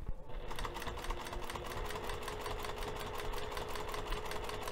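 Sewing machine stitching fabric for a storage bin, running steadily and loud with an even, rapid needle rhythm throughout, alone without voices.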